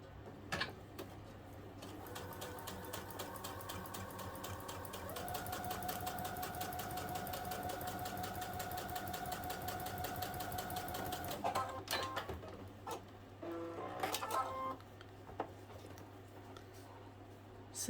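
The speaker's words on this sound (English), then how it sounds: "I'll stitch really close to the edge there." A sewing machine stitches curtain heading tape close to the edge of a piece of fabric, running in a steady rapid patter for about twelve seconds, then stopping and starting in short bursts.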